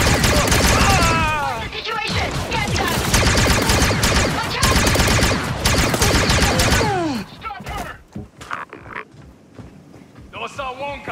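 Sustained gunfire rages in the Star Wars Outlaws video game, a dense burst of blaster-style shots overlapping with effects for several seconds before breaking into scattered, sporadic shots.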